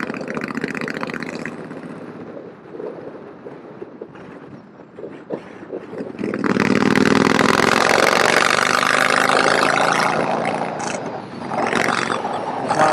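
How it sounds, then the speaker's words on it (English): A British motorcycle engine rumbles at idle, then swells into a loud, sustained roar for several seconds before easing slightly, heavy and close with a coarse vibrating tone. "it's just a big, vibrating, noisy monster problem"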